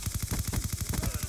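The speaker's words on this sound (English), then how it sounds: "I was shooting at a suitcase." Rapid automatic gunfire in Black Ops 2 on Xbox 360, a steady burst of about a dozen closely spaced shots rattling through the whole moment, loud and close with no voices over it.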